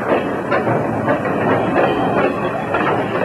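A train rolling slowly over badly deteriorated branch-line track in need of repair, with loud, steady rumbling and clattering wheel noise, hiss and rhythmic clacks, close by and without speech.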